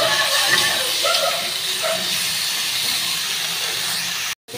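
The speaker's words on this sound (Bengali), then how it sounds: "একটু ভালো করে ভাজা ভাজা করে নেব।" Food with turmeric and salt sizzles steadily in a hot pan, a constant bright hiss that cuts off abruptly just before the end.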